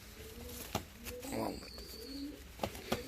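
Fancy show pigeons coo in low, soft bursts close by, with a few sharp clicks and knocks scattered through the short stretch.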